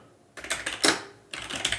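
Keystrokes on a computer keyboard while a Docker directory is set up for a self-hosted WireGuard VPN, coming in two quick, close bursts of rapid typing separated by a short pause.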